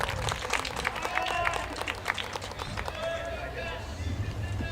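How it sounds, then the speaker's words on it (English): A crowd applauds and cheers from the sidelines at a boys high school soccer game, with scattered claps and voices rising briefly over the open-air field noise. "Gets a nice ovation here from the crowd."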